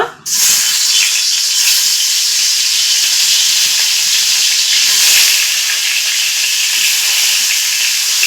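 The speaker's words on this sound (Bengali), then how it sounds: "তেলটা গরম হয়ে গেছে এখন আমি মাছগুলো ভেজে নিব" Loud, steady sizzling of snakehead fish frying in hot oil, a dense continuous hiss that starts abruptly and stays close and even throughout.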